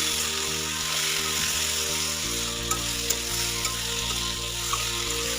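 Ground turmeric, chili, coriander and cumin sizzle in oil in a pan for a rohu fish curry, a steady close frying hiss over a low hum, with a few small clicks as the spices are stirred.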